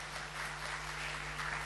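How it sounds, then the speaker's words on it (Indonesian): A church congregation applauds during a sermon, a continuous blended roar of clapping hands that sounds somewhat distant and even under a steady room hum. "Berikan tepuk tangan."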